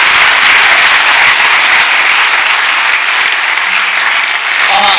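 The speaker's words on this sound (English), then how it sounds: "Give these guys a huge round of applause." A conference crowd applauds loudly and steadily, dense clapping from a large audience filling the room, close and continuous for several seconds.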